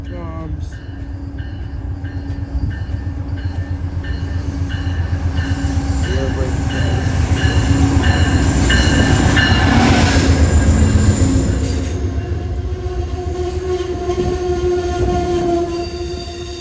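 A train pulls into the rail station at Dover, New Hampshire, its steady rumble swelling as it nears and then easing, with wheel squeal and sustained horn-like tones over the din.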